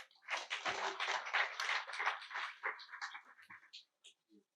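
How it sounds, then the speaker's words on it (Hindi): Faint audience applause at a memorial trust function: a brief burst of clapping that thins into a few scattered, fading claps, heard at a distance. "अब तालियां बजनी चाहिए।"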